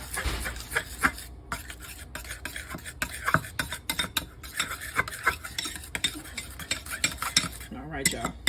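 A knife stirs ranch dressing in a bowl, faint quick scraping and clicking strokes in an uneven rhythm, close by and quiet, with no talking.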